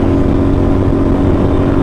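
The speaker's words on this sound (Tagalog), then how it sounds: "Kahit 450cc lang siya, pero ang yabang ng tunog." A CFMOTO NK450 motorcycle, a 450cc naked bike fitted with an Orion aftermarket exhaust, drones in a loud, steady engine note held at high revs close to the microphone, with no talking.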